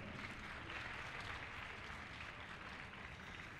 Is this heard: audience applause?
yes